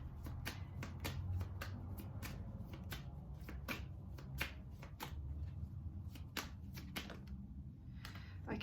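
Angel oracle cards being shuffled by hand, a steady run of crisp riffling snaps and taps close to the microphone, alone with a low background hum.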